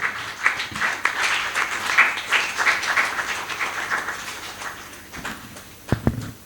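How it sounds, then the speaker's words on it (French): An audience at a Panafrican Corporates Awards ceremony claps for the deputy mayor, a steady, fairly loud wash of hand claps lasting several seconds before fading, with a few sharp sounds near the end. "Applaudissez pour elle parce qu'elle est là depuis avec nous"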